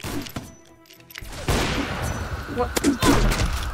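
Gunfire in the Roblox game Murderers VS Sheriffs comes as a rapid run of sharp shots and bursts, with a short quiet gap early on, then dense, loud firing and impacts.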